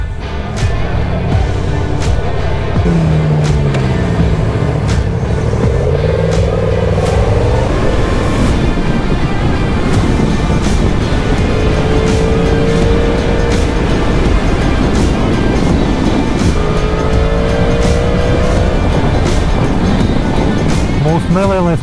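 A Yamaha MT-10 motorcycle on a test ride, its engine rising and falling through several revving pulls under constant loud wind rush, with talk over the noise.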